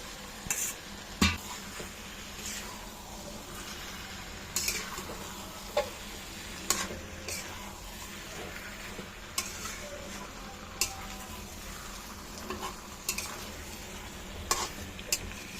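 Sliced kakrol (spiny gourd) fries with spices in a pan: a steady sizzle runs throughout, punctuated by irregular clicks and scrapes of a spoon stirring against the metal.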